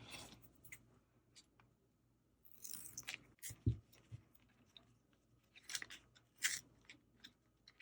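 Scissors cutting paper for a vintage advertisement junk journal masterboard: soft, quiet snips and crisp paper rustles in short irregular bursts with pauses between them.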